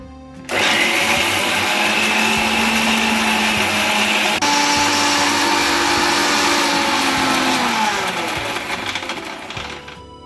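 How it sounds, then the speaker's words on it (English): A kitchen blender grinds a thick spice paste with cooking oil and apple cider vinegar for a fish fry, a steady loud whirring drone that starts abruptly and tapers off near the end. "Now I am going to grind it into a fine paste, thick paste."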